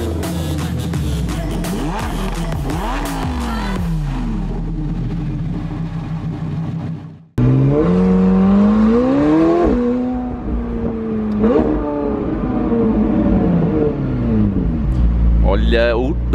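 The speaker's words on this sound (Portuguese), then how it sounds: "o tanto que essa reduzida tá barulhenta" A luxury car engine downshifts and revs hard, loud and close, its pitch sweeping up and down repeatedly, with a short sudden drop to near silence midway before the revving resumes.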